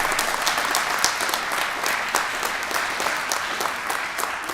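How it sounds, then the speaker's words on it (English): At a December 2021 nursing graduation for MSN and BSN students at Cabarrus College, the audience gives a sustained round of applause, with dense clapping and occasional sharper individual claps and no voices over it. "So another round of applause for you all."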